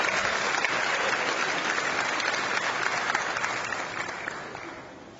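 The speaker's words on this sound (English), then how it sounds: "Let's give a big round of applause for all my helpers." Church congregation applauding in a large hall at First United Methodist Church in Fort Worth, Texas; dense, steady clapping that holds for several seconds, then fades gradually toward the end.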